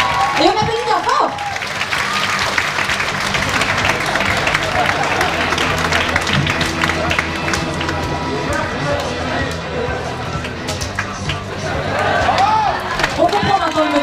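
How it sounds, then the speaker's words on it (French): Sustained audience applause and crowd noise at a cosplay parade during a geek and fantasy festival, loud and continuous for the whole stretch, with scattered cheers and voices mixed into the clapping. "Et on applaudit bien fort."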